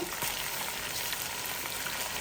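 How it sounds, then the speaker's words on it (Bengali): Spices frying in oil in a pan while cooking meat bhuna, a steady close hiss and crackle that runs unbroken throughout with no talk. "এইভাবে এটাকে ভাজতেছি"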